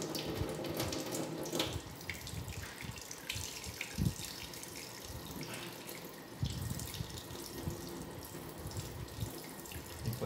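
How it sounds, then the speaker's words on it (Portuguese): Tap water runs steadily from a faucet fed through a home water filter, a continuous close hiss and splash with slight surges in flow and no talking. "Eu vou virar a torneira aqui, só para vocês verem."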